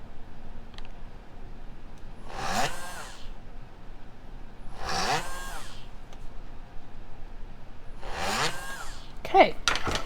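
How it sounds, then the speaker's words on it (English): Three short bursts of a high-pitched power drill whine drilling holes in beads, spaced a few seconds apart, with quiet gaps and a small click or clatter at the end. "I am only going to drill 2 holes in these 2"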